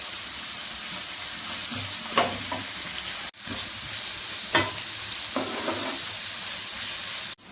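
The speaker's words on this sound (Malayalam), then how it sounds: "ആവശ്യത്തിന് കറിവേപ്പിലയും ചേർത്ത് നമുക്കിത് നന്നായിട്ടൊന്ന് വഴറ്റി കൊടുക്കാം" Sliced onions, green chillies and curry leaves sautéing in a pan for a chicken stew, a steady close sizzle broken by a few scraping stirs of a spoon against the pan.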